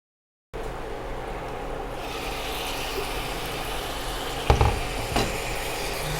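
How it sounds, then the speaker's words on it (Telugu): Beetroot fry sizzles softly in a pan while being stirred, giving a steady low hiss with a couple of brief clanks from the spoon against the pan near the end. "ఇలా మొత్తం కలిసేలా కలుపుకొని ప్రతి 2 నిమిషాలకు కలుపుకుంటూ 20 నిమిషాల పాటు ఉడికించుకోవాలి"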